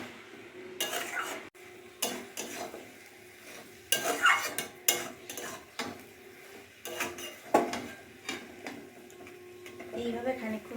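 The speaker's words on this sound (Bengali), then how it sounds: "এবার এখানে ভালো করে নাড়াচাড়া করে নিচ্ছি।" Water spinach and dried fish are stirred in a pan with a utensil, giving repeated irregular scraping and clinking strokes over a soft sizzle, close and fairly loud.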